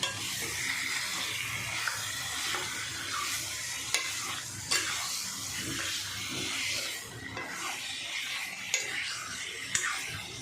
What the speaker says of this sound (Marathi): असं परतून परतून घ्यायचं म्हणजे सगळे मसाले मिक्स होतात